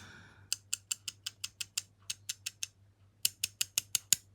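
Close, dry rattling clicks from the loose skeleton overlay of a Jinhao 100 skeleton red fountain pen, a quick run of about eight clicks, a pause, then another burst, heard alone over quiet hum.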